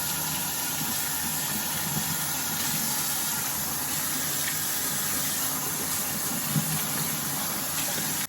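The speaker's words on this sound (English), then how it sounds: "Rinse." Water splashes and runs steadily as a face is rinsed clean after a Cetaphil face wash, making a continuous close-up hiss that holds at an even level for about eight seconds, with no talking.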